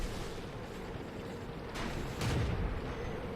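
Tank gun firing in World of Tanks: two heavy booming shots in quick succession over a steady low engine rumble, fairly close and loud.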